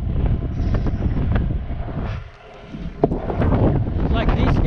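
Wind gusts buffet the microphone in a low, rumbling roar, easing briefly midway before picking up again, with talking mixed in.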